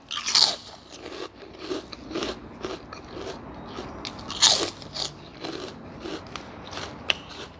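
Crisp vegetables and pork crackling are bitten and chewed alongside a bowl of small-noodle pork noodle soup with fried garlic, giving close, irregular crunches and crackles scattered over several seconds, with no talking.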